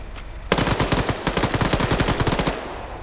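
Rapid bursts of automatic gunfire ring out in a video game PvP match, a dense rattling volley of shots that runs nearly unbroken for about two seconds, loud and close.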